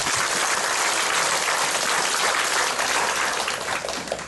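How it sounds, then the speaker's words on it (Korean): A congregation at a healing revival meeting in a Daegu church claps in a thick, continuous roar that sounds almost like rushing water, steady throughout and tapering at the end. "박수로"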